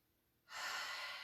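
A single deep breath taken during a guided meditation and movement exercise, starting suddenly after a quiet moment and holding as a steady, fairly close airy rush to the end.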